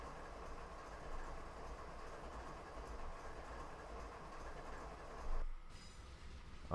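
A long coal freight train in a video game rumbles steadily past with a low continuous roar and faint rail clatter, then the noise briefly thins near the end.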